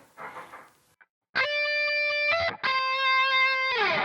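Distorted electric guitar plays a solo lick, sustained notes bent up precisely by a whole step and more, ringing loud and clear with a brief break between phrases and a final sliding bend.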